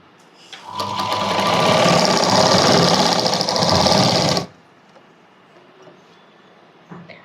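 A sewing machine stitches a baby frock in one continuous, loud, close run of about four seconds, then stops, leaving near silence.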